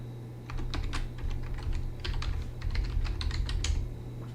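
Rapid computer keyboard typing while entering a password, a steady run of close, crisp key clicks with no talking.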